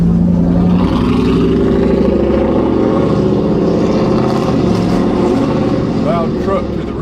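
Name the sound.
loud truck driving behind the car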